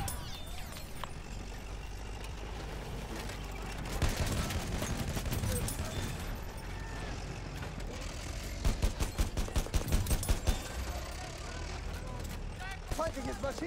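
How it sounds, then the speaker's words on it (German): Machine gun fire in the World War I shooter Battlefield 1, heard as dense bursts of rapid shots among other gunfire and battle noise, with heavier rattling volleys around the middle and later, under in-game voices. "Feindliches Maschinengewehr!"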